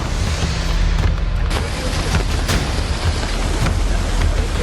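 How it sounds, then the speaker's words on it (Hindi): Heavy rain pours down over hilly terrain in Kota during a flood, a steady loud broadband roar with occasional sharper splashes and a low rumbling undertone, no voices. "पहाड़ों पर आसमान से बरस रही बारिश"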